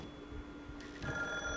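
A telephone in the Wii horror game Calling starts ringing partway through, a thin electronic ring over a quiet background hum.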